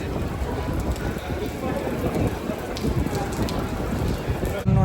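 Rain falls steadily outdoors as someone leaves the office, a continuous close hiss of drops hitting surfaces with scattered sharper patters throughout.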